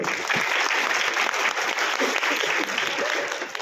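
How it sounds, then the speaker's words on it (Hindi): Audience members at a stage event give a loud, sustained round of applause, dense clapping from a crowd filling the whole moment without pause. "जिन्होंने हाथ खड़े किए उनके लिए जोरदार ताली लगा दो"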